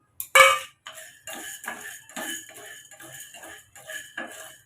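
A spatula dry-roasts a couple of handfuls of an ingredient in a pan, giving one sharp metallic clink followed by a steady run of light, rhythmic scrapes and taps against the metal, close and without talk.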